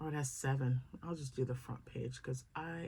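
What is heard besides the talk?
None of the usual background noises is heard.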